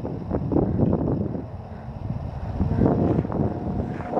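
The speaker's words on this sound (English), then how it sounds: "It's windy." Wind gusts across the microphone outdoors at a field where a Park Zone Spitfire model plane is flown. The low buffeting roar rises and falls, easing in the middle and building again.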